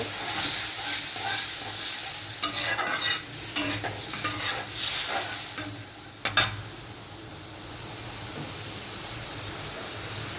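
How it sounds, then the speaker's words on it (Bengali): Chopped onions fry in a pan while being stirred, partway through a beef curry with small local potatoes. A steady close sizzle and hiss runs throughout, broken by irregular spoon scrapes and clinks in the first six seconds. "আমার পেঁয়াজটা ভাজা ভাজা হয়ে গেছে"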